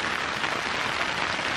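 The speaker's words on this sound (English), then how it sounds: "I don't even know if you can hear me over the rain." Steady rain falls at an outdoor festival, a dense, even hiss of drops with no breaks and no audible voices.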